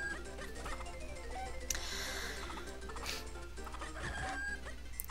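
Golden cuccos, chickens in the Zelda: The Minish Cap game, cluck steadily over looping game music, a few louder bursts rising out of a continuous busy mix.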